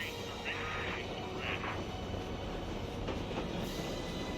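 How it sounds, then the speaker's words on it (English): A train slows to a stop in the Crisis Core Reunion video game, a steady, dense rumble of rolling rail noise with faint wheel squeal that continues throughout. "Alright, train is a-stoppin'."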